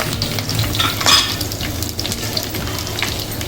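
Green chillies, curry leaves and cinnamon frying in hot oil for a mutton gravy, a loud steady sizzle with stirring scrapes and a brief sharper crackle burst as they hit the pan.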